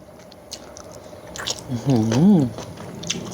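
Someone chews steamed red tilapia eaten with chili-fermented fish dip and blanched okra, with soft moist squishing and biting sounds close up, partly overlapped by a brief hum-like voice.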